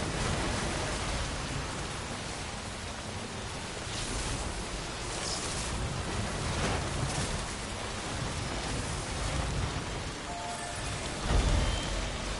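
Heavy, continuous rain hisses in the video game Death Stranding, a dense, even downpour that holds steady throughout with no speech.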